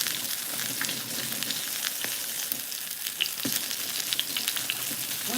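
Salmon frying skin-down in a pan, a steady close crackling sizzle with scattered pops and spits throughout, no voices.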